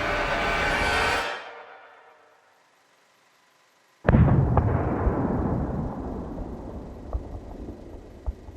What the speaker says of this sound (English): Their conversation was interrupted by a loud thud somewhere deep in the ship, followed by an intense vibration.